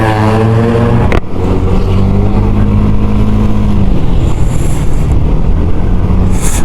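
A motorcycle engine revs up loudly and close, its pitch climbing through a gear change, then holding a strong rough drone.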